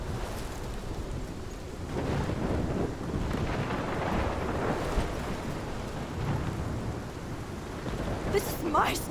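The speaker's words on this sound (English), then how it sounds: "This is my storm." Rainstorm with rolling thunder in the game Life Is Strange, a steady wash of rain running throughout with low rumbles swelling at moments and a brighter crack near the end; a faint voice may sit briefly under the storm.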